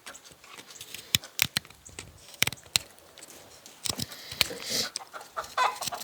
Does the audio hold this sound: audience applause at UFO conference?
no